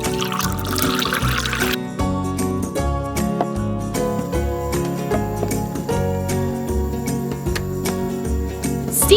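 Water trickles and pours with a light gurgle into a mini steamed fish dish over steady, rhythmic background music.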